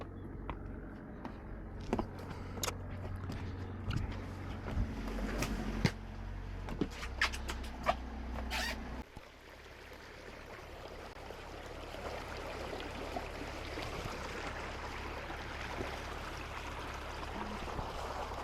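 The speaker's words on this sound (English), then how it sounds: "we are going to actually motor a little while out of here" A sailboat motoring out of an anchorage near McKay Harbor, with a steady low engine hum and clunks at first, then a broad rushing wash of water along the hull, fairly close and continuous.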